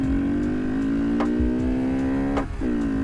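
Mini bike engine revving close by with a steady high-pitched buzzing drone that holds, briefly dips and climbs again, loud and continuous.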